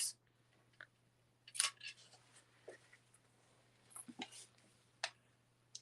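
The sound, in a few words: scissors trimming the tails of a ribbon bow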